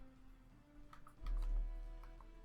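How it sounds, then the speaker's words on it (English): Typing on a wireless Bluetooth mini keyboard produces a handful of faint, light key clicks, sparse and uneven, over a low background hum. "Typing on the Bluetooth."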